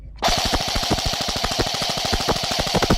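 AGM MP40 airsoft gun firing a sustained burst of rapid, evenly spaced mechanical shots, loud and close, starting abruptly after a brief quiet moment, with no talking.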